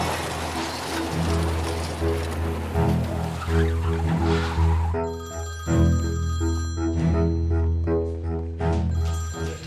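A telephone rings in a tense indoor scene of a Turkish drama series, a loud electronic ringing repeated in pulses throughout over a low background hum.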